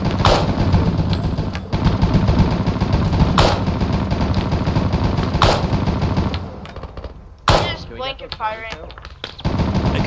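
Arma 3 co-op firefight: sharp gunshots and short automatic bursts crack out at intervals, loud and close over steady battle noise, and a radio-style voice cuts in near the end.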